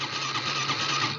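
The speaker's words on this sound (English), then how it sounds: "Turn the choke on, electric start." A carbureted trail bike engine cranks on electric start with the choke on, giving a short, loud, steady mechanical roar up close.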